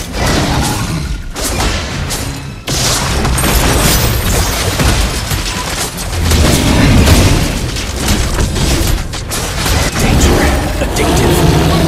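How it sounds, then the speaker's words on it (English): Loud, dense booms from a turret being destroyed in the Mobile Legends mobile game, with thumping blasts and whooshes layered over continuous battle effects throughout, and a brief game voice mixed in. "Your team destroyed the turret!"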